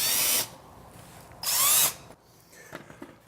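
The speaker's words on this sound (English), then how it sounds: "I'm going to use these little 1/2-inch screws to screw from the cardboard through into the backing of" Power drill whirring in two loud bursts as it drives small half-inch screws through cardboard into the backing of an artificial grass wall panel, followed by quieter clicks and handling noise.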